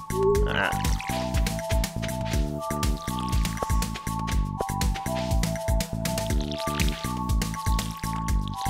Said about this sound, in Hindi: ओके पानी देना पूरा हुआ